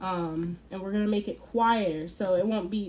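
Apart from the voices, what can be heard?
No everyday noise stands out behind the speech.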